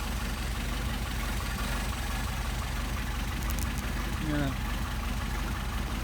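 Mercedes 190SL engine idling steadily during Solex carburetor tuning, a low, even rumble with faint knocking, fairly quiet throughout.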